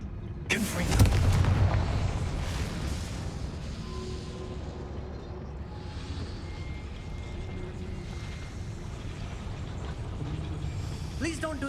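Confringo fire spell blasting in Hogwarts Legacy: a loud, booming explosion near the start, then a long rumbling tail of debris and ambient game noise that slowly thins out.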